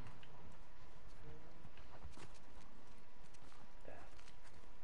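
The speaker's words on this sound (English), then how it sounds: "Oh, you call your horse Japan" Horse hooves clip-clopping in the video game The Last of Us Part 2, a quick uneven patter of hoof steps under game ambience and faint talk.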